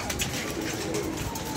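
Pigeons coo softly while pecking at scattered grain, a low, muffled burble repeating over steady background noise.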